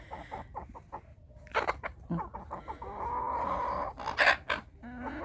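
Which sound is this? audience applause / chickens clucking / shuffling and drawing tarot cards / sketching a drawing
chickens clucking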